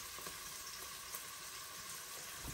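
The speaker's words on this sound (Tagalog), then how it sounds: "gigisa ko ng bawang sibuyas at luya" Onion, garlic and ginger sauté in a pan with a soft, steady sizzle and faint crackle, fairly quiet and continuous throughout with no voices.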